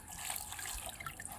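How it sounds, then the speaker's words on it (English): Water running through a sieve while rinsing wolffia plants at a fish farm, a steady close splashing and trickling stream that continues without a break. "Let's rinse it with water."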